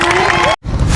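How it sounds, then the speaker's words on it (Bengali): A group claps and cheers for Dipto after an ice-standing challenge. A burst of loud, dense applause is broken by a split-second gap of silence, then resumes just as strongly. "দীপ্তর জন্য হাততালি।"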